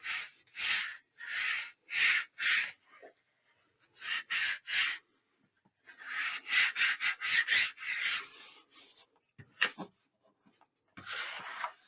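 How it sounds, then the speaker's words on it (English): Paper is burnished down onto a 12x12 wedding album page, producing close, bursty rubbing strokes in quick rhythmic groups with short pauses between them. "burnish it down really well"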